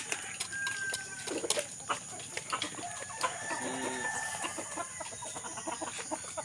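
Chickens and a rooster at feeding time, the birds fed from a raised feeder, cluck steadily and close by with scattered calls and a brief crow, continuous bird chatter filling the yard without talk.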